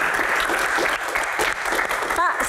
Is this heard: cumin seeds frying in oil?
no